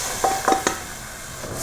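Lentils with tamarind stirred in a sizzling pot give a few quick scraping, clattering stirs over a steady frying hiss, close and fairly loud.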